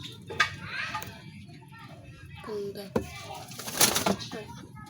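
Domestic pigeons kept as a pair with a young bird give short, soft cooing calls near the start and again in the last seconds, mixed with faint background voices and rustling.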